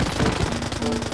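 Rapid machine-gun fire from a Minecraft-style golem cartoon, a dense continuous burst lasting about a second at close range.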